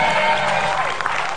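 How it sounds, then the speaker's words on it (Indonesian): A studio audience at an Indonesian TV talk show bursts into dense, loud applause that fills the short stretch from start to finish, with crowd noise mixed in. "tepuk tangan kasih semangat dong buat Anggun."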